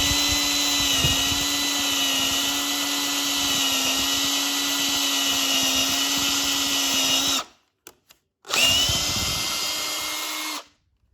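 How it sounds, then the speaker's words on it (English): A power drill bores through wood while a loft bed is being built, a loud steady whine for about seven seconds, a brief cutout with small clicks, then another sustained run of drilling. "I'm putting it through here and drilling through so that the holes will line up a lot easier"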